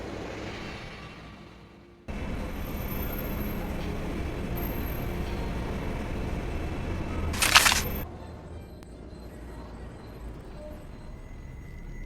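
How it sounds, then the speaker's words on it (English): A train pulls in within the Dark City 7 game, a steady broad rumble holding for several seconds with a sharp brief hiss of brakes or steam near the end before settling to quieter ambience. "The train. Just in time."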